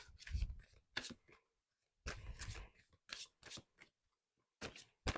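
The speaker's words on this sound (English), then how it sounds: "So let's pull 6 cards." Transformation cards pulled one by one from a deck, giving several short, crisp papery swishes and slaps in separate bursts with quiet gaps between, close and fairly soft.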